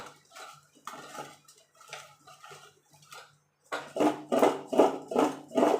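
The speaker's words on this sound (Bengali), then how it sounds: "এইভাবে ঝাঁকিয়ে ঝাঁকিয়ে মাখিয়ে নেবো" Mango pickle pieces tossed with spices in a metal pot, giving bursts of clattering, rattling shakes in a steady rhythm that grow louder and denser near the end, close by with no talk.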